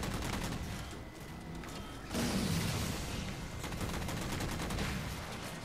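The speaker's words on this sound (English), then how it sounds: "I shot him like a million times" Rapid, continuous gunfire rattles through a Halo 4 Capture the Flag match, dense volleys of shots layered over one another with no pause for several seconds, joined midway by a heavier burst.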